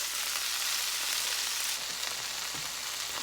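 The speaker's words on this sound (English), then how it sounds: "It's sizzling" Washed, wet kale leaves hit hot garlicky oil in a pan and fry with a steady, bright hiss, then a few stirring scrapes and crackles come through near the end.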